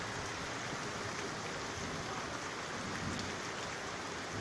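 Steady rain falls in a village, water running off a rooftop in a dense, even hiss and patter that holds constant throughout, no voices.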